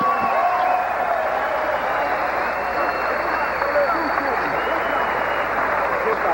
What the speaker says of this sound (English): let's have a nice round of applause for both of these fighters